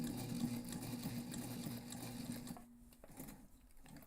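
A sewing machine runs a 3/8 inch seam on a backpack panel, a close, steady motor hum with fast needle chatter that cuts off briefly, then resumes for a short burst.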